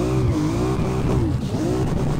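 Video-game BMW drifting in Peak Angle: Drift Online, a steady loud engine drone with rising and falling revs and a continuous tire squeal running throughout, with no talk.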